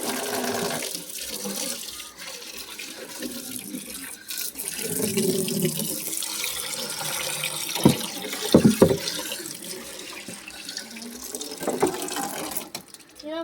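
Tap water pours into a fish tank as it is refilled during cleaning, a continuous close rushing and splashing with a few sharper sloshes partway through.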